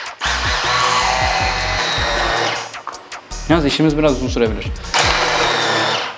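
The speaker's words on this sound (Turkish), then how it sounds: "Şimdi arkadaşlar mikserle buraya güzelce giriyoruz." A loud electric hand mixer whirs steadily inside a watermelon, pauses while someone speaks, then roars back on near the end.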